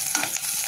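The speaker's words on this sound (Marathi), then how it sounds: "त्याच्यात घालू हिरवी मिरची आणि हे चांगलं परतून घेऊ" Green chilies stirred and frying in a hot pan, a brief, steady sizzle with soft stirring scrapes, close and moderately loud, no voices.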